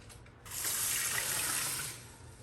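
Beef broth pours steadily onto rice in a cooking pot for solar cooking, a close, continuous liquid rush lasting about two seconds with no talk.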